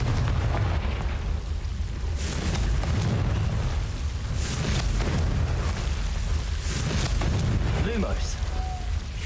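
Confringo blasting spells from Hogwarts Legacy on PC, several dull bursts and booms rising over continuous rumbling game ambience, with a voice casting in the background.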